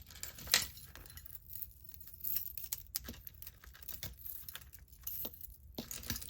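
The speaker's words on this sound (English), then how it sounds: "Some more glass bangles." Glass bangles jangle and clink as they are handled and sorted among costume jewellery, with bright scattered clinks and rustling, close by and irregular.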